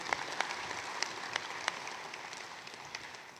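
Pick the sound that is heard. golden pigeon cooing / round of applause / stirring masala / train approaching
round of applause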